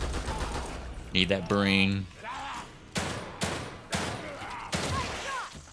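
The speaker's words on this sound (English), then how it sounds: "Love my pistol in this game." Pistol gunfire in The Evil Within 2: about four evenly spaced sharp shots ring out after a burst of game noise, with someone talking briefly over the action.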